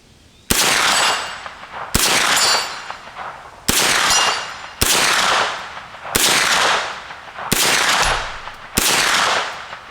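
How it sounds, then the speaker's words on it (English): A Smith & Wesson Response pistol-caliber carbine fires seven loud, sharp shots at an outdoor range. The shots come at an uneven but fairly quick pace, each followed by a ringing metallic clang and a short decay. "When I get to shooting fast, I can't tell if I hit or not."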